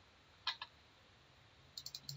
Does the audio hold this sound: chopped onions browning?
no